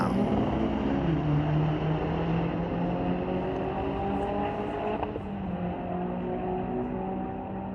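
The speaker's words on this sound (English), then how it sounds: "Up now, Outlaw class in this very, very quick 1973 VW Beetle with a K20 turbo." Loud, continuous engine roar from a drag race at Mission Raceway Park, where a 1973 VW Beetle with a turbocharged K20 runs against a Charger, a sustained droning pass with shifting pitch heard from trackside.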